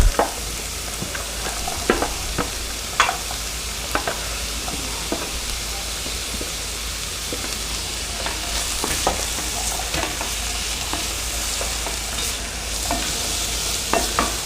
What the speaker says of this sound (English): now in go the celery and the carrot.